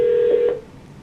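During the connection of a phone call, a short, steady telephone tone sounds for about half a second and then stops abruptly, leaving a faint line hiss.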